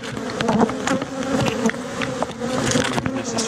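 Honeybees swarm and buzz at an open hive in a dense, continuous drone that stays close and steady throughout, with no voices.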